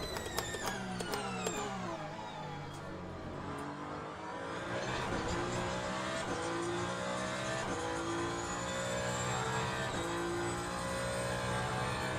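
A Le Mans Ultimate race car engine screams at high speed down a long straight, its tone sweeping up through gear changes and holding a steady, loud drone without any voices.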